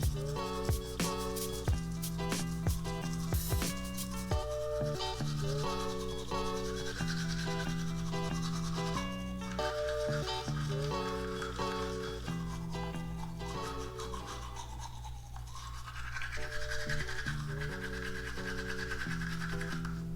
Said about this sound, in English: when your toothbrush is standing up, and you gently go up and down.